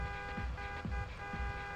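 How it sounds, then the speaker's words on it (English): A car horn in the video game Just Cause 2 honks several short toots in quick succession over a steady engine hum. "You're gonna honk."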